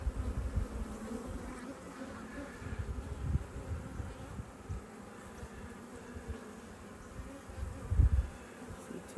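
Honeybees buzz around an open hive during an inspection, a dense, continuous drone close by, with a few louder passes as individual bees fly near.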